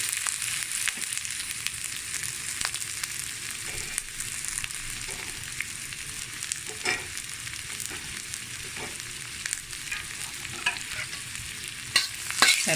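Chopped onion and green chili frying in oil for chapati egg kothu, a bright constant sizzle with scattered stirring clicks and scrapes, close and alone without voices.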